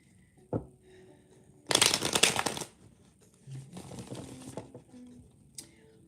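A deck of cards being shuffled up close in a quick burst of riffling and flicking, followed by softer handling and shifting sounds, with no talking.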